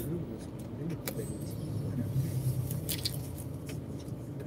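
Car interior in a slow traffic jam, a steady low engine and road rumble running throughout with occasional faint clicks and rattles.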